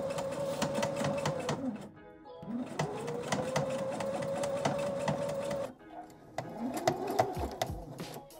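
Sewing machine stitching sequin fabric together with its lining, running in steady continuous bursts with a short pause between, close and fairly loud with no talking.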